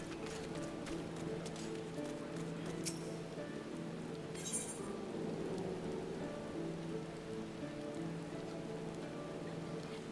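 Rain pours in the video game Final Fantasy XIV, a steady hiss of drops on surfaces with a faint low rumble, running unbroken at a moderate level beneath soft background music.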